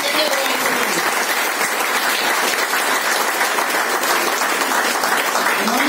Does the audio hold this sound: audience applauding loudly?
yes